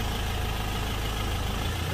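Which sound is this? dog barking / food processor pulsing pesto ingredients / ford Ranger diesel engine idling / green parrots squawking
ford Ranger diesel engine idling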